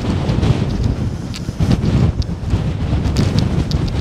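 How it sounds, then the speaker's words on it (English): Strong wind buffets the microphone on an exposed hilltop in the Cheviot Hills of Northumberland, a steady loud rumbling roar with gusty surges throughout and no voices. "But aye, it is windy now,"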